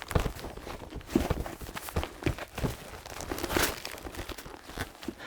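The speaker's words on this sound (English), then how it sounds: "I've chosen a combination of these Denim Movement and Leather Foley Pro presets to create this." Foley movement layered from denim and leather presets, with crisp rustles, creaks and rapid footstep-like thumps in irregular bursts, close and moderately quiet.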